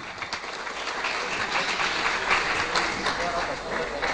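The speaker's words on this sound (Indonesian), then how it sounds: "Beri tepuk tangan." An audience applauds at a national FLS2N student dance performance event in Indonesia, dense continuous clapping, loud and sustained like a broad crowd roar.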